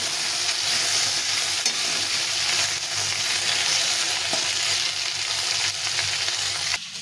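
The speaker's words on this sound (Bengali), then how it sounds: "সামান্য একটু লবণ আর একটু হলুদ গুঁড়ো দিয়ে আমি এটাকে ভালো করে ভেজে নেব" Frying and stirring of an ingredient seasoned with salt and turmeric in a pan, cooked down for a fish curry with taro and potato: a loud, steady sizzle runs throughout with scraping stir strokes, and no voices.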